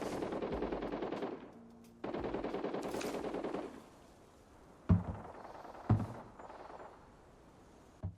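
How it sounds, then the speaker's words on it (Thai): Rapid bursts of automatic gunfire in the video game Arena Breakout, two long volleys, followed by a few sharp single shots with quieter gaps between. "เสียงปืนก็มาเลยครับ"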